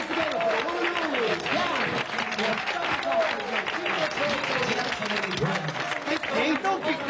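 Loud, dense applause from a crowd, continuous throughout, with voices and cheering mixed in.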